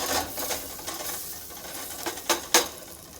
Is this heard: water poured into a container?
no